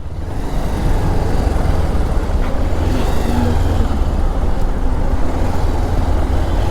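A road traffic jam near Nadhal rumbles with a continuous, loud, close drone of idling car and motorbike engines, steady throughout with no voices.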